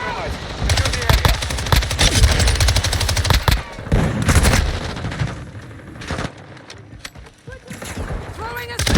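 Dense submachine gun fire in Modern Warfare 2, rapid automatic bursts rattling almost continuously with booming impacts and shouted voices mixed in, loud and close throughout.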